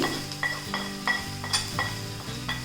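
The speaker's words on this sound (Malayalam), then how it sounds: "ഇനി ഈ പൊടികളുടെയൊക്കെ പച്ചമണം മാറുന്നത് വരെ നമുക്കിതൊന്ന് മിക്സ് ചെയ്ത് കൊടുക്കാം" Spoon stirring turmeric, Kashmiri chilli, coriander and garam masala into mushroom roast in a pan, rhythmic scraping strokes and clinks over a low sizzle, close by, no talk.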